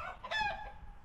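Rooster crowing on a sheep farm, a single short harsh crow heard at moderate distance against a quiet background.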